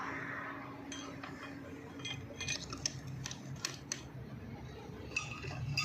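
Metal Pride gearbox parts clink and tap together during assembly, a scattered run of light metallic knocks and chinks at close range over a low background hum.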